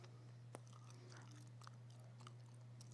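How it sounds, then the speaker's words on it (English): Gum chewing plays faint and close, with soft wet clicks and smacks scattered over a steady low electrical hum. "I'm chewing gum, which is super rude from what I hear"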